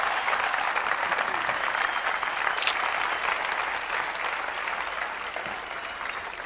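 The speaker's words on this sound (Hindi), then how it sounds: "जोरदार तालियां।" A game-show studio audience claps loudly and continuously for a prize winner, a dense, even wash of applause that holds steady throughout and fades only slightly at the end.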